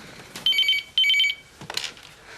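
An old-style telephone rings indoors in two distinct trilling bursts, bright and close, followed by a brief clatter as it is picked up; no one speaks.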